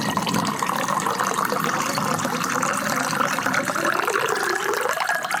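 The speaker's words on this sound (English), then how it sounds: "I reached for the bottle of tequila and poured myself a healthy glass." Tequila poured from a bottle into a glass, a steady liquid trickle and fill running continuously for several seconds, close and fairly loud, with no voices.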